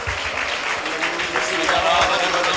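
Church congregation clapping hands in praise during a Christian worship service, a steady wash of applause running throughout with a voice sounding over it.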